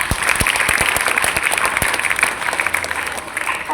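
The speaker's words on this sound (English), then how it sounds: "please applaud them" At a school function, students and staff applaud classmates, a steady crowd clapping with a few sharp individual claps standing out near the front, continuing evenly for several seconds.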